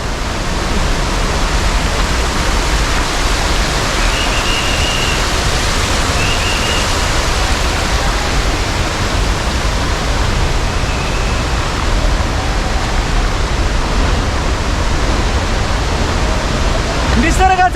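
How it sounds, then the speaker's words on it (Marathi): Devkund waterfall, a huge cascade, roars in a dense, unbroken wash of white noise that stays close and loud for the whole stretch. "फायनली देवकुंड धबधब्यावर आपण आलेलो आहोत"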